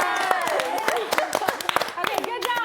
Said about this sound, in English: we're going to clap